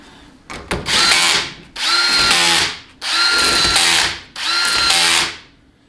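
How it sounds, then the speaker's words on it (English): A low-power battery impact wrench running down bolts on a Ford C4 transmission, four close, loud bursts of about a second each with short pauses between. "So just use like a low power battery impact to run them down."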